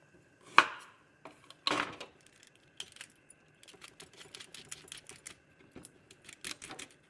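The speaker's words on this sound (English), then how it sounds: "With the ginger, I'm gonna want to peel it. And just literally a rough peel." A knife roughly peels fresh ginger for a vegan pho broth, giving two sharp scraping strokes followed by a run of lighter, irregular scrapes and taps, close and alone.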